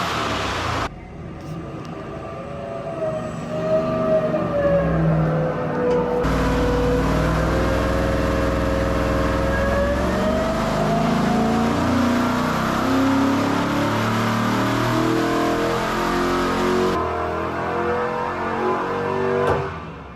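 A 5.3 V8 engine runs on an engine dyno, a steady loud mechanical drone that climbs and shifts in pitch through a sustained pull lasting most of the stretch, with no talk over it.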